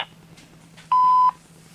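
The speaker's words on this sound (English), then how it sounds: "Record your message after the tone." A voicemail system's beep sounds before message recording, a single steady electronic tone of about half a second, clear and alone over faint line hiss.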